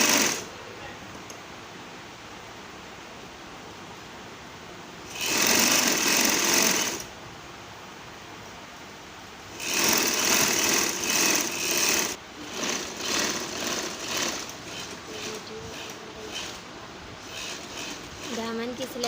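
A sewing machine stitches the hem of a simple kurti in two loud, steady bursts, with softer intermittent stitching and handling later. Background hiss runs throughout and no voice is present.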